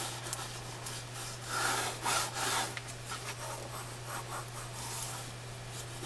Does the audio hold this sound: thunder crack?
no